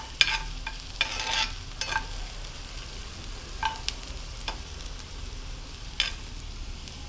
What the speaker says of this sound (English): Saute these onions well